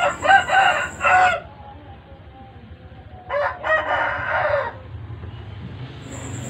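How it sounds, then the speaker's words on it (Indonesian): Two loud rooster crows ring out close by, a pause between them, with a third just starting at the end over quiet background hum. "suara ayam berkokok"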